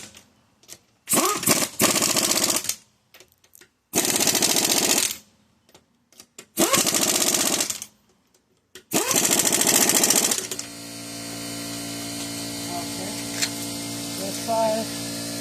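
Impact wrench on a socket tightening the wheel bolts of a 2016 Subaru Forester in a crisscross pattern, four loud rattling bursts with gaps, followed by a steady lower hum.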